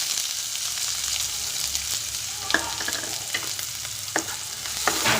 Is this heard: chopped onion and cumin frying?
yes